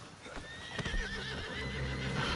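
A horse in Red Dead Redemption 2 Online gives a loud, drawn-out whinny with a wavering pitch, accompanied by a few hoof thuds and no talking.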